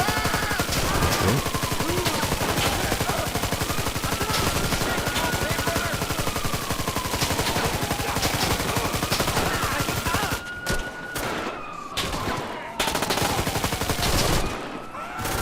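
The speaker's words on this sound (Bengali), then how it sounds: "পেছন থেকে গুলি করতেছে" Rapid bursts of automatic gunfire from a GTA 5 shootout against mafia and police, loud and continuous with brief pauses near the end.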